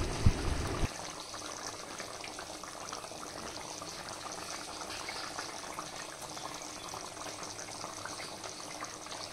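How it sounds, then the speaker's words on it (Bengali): Goat meat simmers in a covered pan on medium-low heat, giving a steady, soft bubbling hiss that continues evenly without any voices. "ও পাশে তোমরা দেখতে পেলে মাংসটা ফুটছে"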